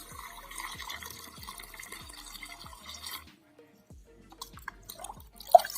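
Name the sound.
water poured into soil to make paste for charcoal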